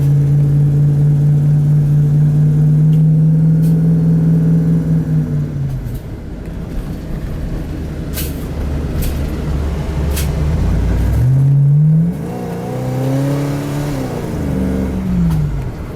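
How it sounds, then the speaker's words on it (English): A car engine revved at partial throttle, holding a steady high drone, dropping off, then climbing again in a rising rev, loud and close. "I gave it 3/4, but I let up to half real quick."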